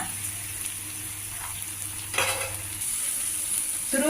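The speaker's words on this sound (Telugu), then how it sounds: "కొబ్బరి కూడా కొద్దిగా పచ్చివాసన పోయేదాకా వేయించుకోవాలి" Grated coconut being dry-roasted and stirred in a pan for banana stem curry, giving a soft, steady sizzle with occasional scraping stir strokes, no talking.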